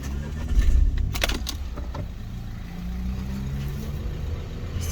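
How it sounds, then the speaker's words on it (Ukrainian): A pair of Renault Scenic 3 car keys jangling close by in a few quick metallic shakes, followed by a low engine rumble in the background, with no speech. "Два ключі."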